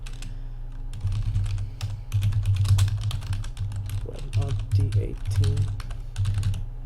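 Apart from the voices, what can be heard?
typing commands on a computer keyboard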